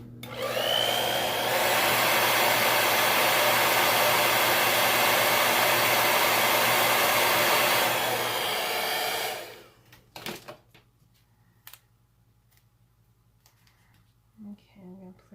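A hair dryer blows loudly and steadily for about nine seconds while drying a letter, then shuts off, leaving quiet room noise with a few faint clicks and handling sounds.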